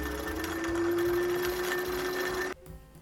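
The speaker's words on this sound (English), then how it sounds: "So I want to top stitch these lines with this side on top." A sewing machine top stitching a hat brim runs at a steady, loud whir for over two seconds, then stops abruptly, leaving a brief quiet rustle.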